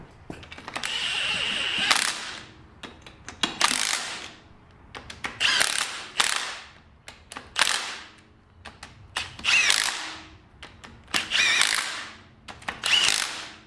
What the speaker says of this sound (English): and then I will torque them to spec.